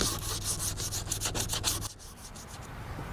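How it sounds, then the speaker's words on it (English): A wooden 2x12 board rolled gently around in desert gravel to wear its edges: a steady, close crunching and grinding rasp that keeps up for about two seconds, then stops, leaving quieter rustle. "I am just gonna roll this around very gently in the gravel"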